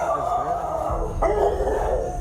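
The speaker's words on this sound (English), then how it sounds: "The dogs started going nuts when they were recording this." Several dogs bark and yip at night after a loud boom, their barking steady and somewhat distant, heard through a continuous noisy recording with no clear talk.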